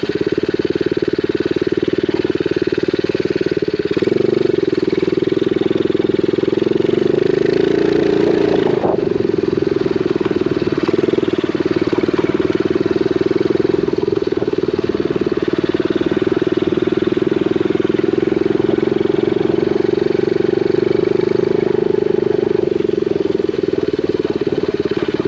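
A small X7 Super pocket bike engine runs steadily and loudly close by for the whole stretch, a continuous buzzing drone with a brief dip partway through, and nobody speaks.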